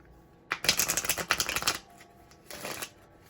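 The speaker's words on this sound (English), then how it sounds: "this is a new deck, so I'm just taking some time to shuffle." A new oracle card deck being shuffled, two quick riffling bursts of crisp flapping cards, the first longer and the second short, close and fairly quiet with no talking.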